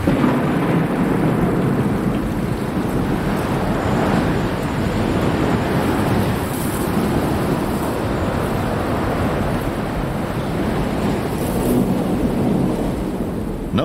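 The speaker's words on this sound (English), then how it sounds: "First comes hard rain, driven before a violent wind. Then the monsoon arrives." Hard, wind-driven monsoon rain pours down steadily during a thunderstorm in the Sonoran Desert, a dense, roaring wash of water with low rumbling thunder underneath, loud and continuous throughout.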